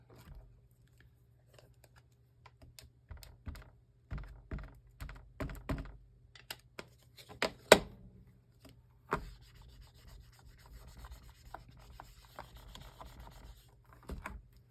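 Rubber stamps are rubbed down firmly onto paper while making an inked card, giving quiet, intermittent scratchy strokes and soft taps spread across a near-silent room.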